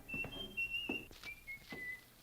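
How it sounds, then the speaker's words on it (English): A man whistles a bright, wavering tune in short phrases as a radio drama effect, fairly close and alone, with soft thumps and rustles beneath. "He slammed the front door and he was whistling."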